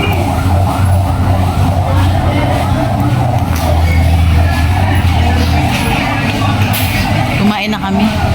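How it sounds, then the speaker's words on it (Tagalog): An ambulance siren wails continuously throughout, fairly close and loud, over a noisy street with engine rumble. "Okay, may ambulansya."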